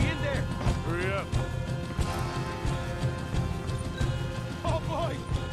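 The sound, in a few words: horses in video game Red Dead Redemption 2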